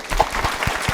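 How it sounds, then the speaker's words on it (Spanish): Applause from a studio audience at the opening of a television talk show, a brief spell of clapping with distinct hand claps standing out, close and fairly loud. "Un aplauso."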